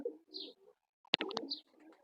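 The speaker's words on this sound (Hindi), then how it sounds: "बड़ा बेहतरीन कबूतर है ये छत वाला" A rooftop fancy pigeon coos softly at close range in short, low murmuring phrases, broken by a brief sharp burst of higher notes midway.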